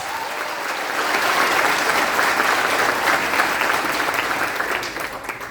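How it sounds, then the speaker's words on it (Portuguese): A church audience listening to a sermon on perseverance breaks into loud, sustained applause that swells after a moment, holds steady for several seconds, then begins to fade. "uma salva de palmas para Jesus"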